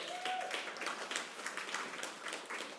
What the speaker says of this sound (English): round of applause for Jeff.